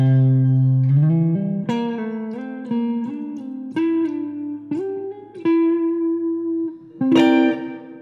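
A clean electric guitar plays a short lick of sustained notes, sliding up and back down between pitches, with no voices.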